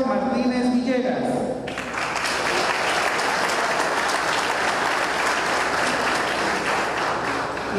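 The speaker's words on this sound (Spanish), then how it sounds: "fuerte el aplauso también para Candelario Larios Sandoval" Sustained applause from an audience at a formal solemn session in Coquimatlán, following a brief stretch of a voice at the start, then dense steady clapping filling the remainder at even loudness.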